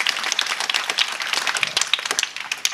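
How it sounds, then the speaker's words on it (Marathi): An audience claps together at a Marathi kirtan-style talk in Marathwada, a dense, steady patter of many hands filling the room at moderate loudness, with no speech over it. "वाजवा की टाळी"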